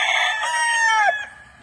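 A young rooster crows once, close and loud, its call rising then sliding down in pitch before cutting off, with no talking over it.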